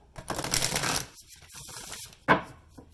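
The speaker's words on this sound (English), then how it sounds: "I'm just going to do a quick shuffle." A quick hand shuffle of a somewhat sticky tarot deck: a dense papery riffle lasting close to a second, then a single sharp card snap near the end, with no talk.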